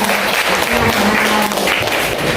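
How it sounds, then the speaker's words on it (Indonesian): A classroom claps for a student group, a dense burst of many hands applauding together, loud and close, lasting a couple of seconds. "Tepuk tangan buat kelompok 3 Nadia."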